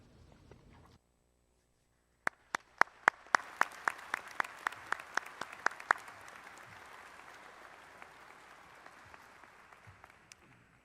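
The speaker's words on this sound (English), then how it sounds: "Let's give him another round of applause." Crowd applause at a university commencement ceremony, beginning with a few sharp, distinct claps that quickly swell into sustained, moderately distant clapping from the audience before slowly thinning out.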